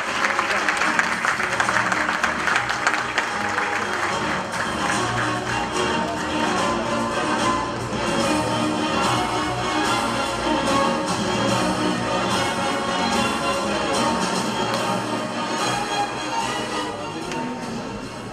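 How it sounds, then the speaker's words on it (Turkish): An audience claps steadily throughout a sports awards ceremony in Sakarya, Turkey, in 2023. The dense, continuous applause fills the hall for the whole stretch, with faint voices mixed beneath it. "Alkışlarınızla hocaların hocası Tamer İlaç'ı davet ediyorum"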